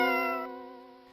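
A single cat meow, clear and close, fading out over about a second with no talking.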